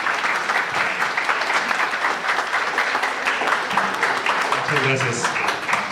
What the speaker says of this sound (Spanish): Un aplauso muy fuerte para él, por favor.